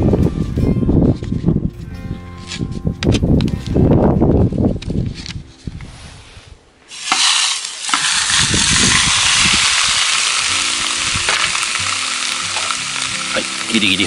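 Steak frying in a pan, seasoned with Kurose spice, a loud continuous sizzle that flares up partway through after quieter clattering and handling, holding steady and close to the end.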